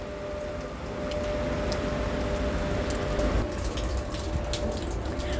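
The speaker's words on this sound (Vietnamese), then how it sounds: "Mưa quá trời mưa, chưa có rửa chén được." Heavy rain pours steadily on a boat moored near the Bình Điền fertilizer factory in Vietnam, a dense continuous wash of drops with a low rumble, loud and even throughout with no voices.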